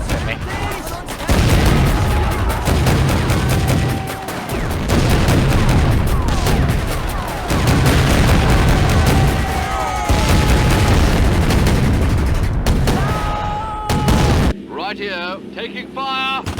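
Video game gunfire crackles in loud sustained bursts, volleys of shots and booms stopping and restarting for most of the clip before cutting off near the end.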